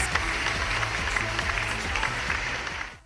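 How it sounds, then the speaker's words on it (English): A crowd applauding in a steady, dense wash of clapping with faint music underneath, fading out at the end. "Let's have a big round of applause, everyone, for these amazing doctors."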